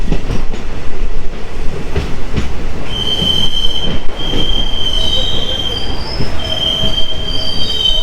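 A DEMU train pulls into Dumohani station with loud, close, high-pitched wheel squeals over the rumble and rhythmic clatter of the rail cars.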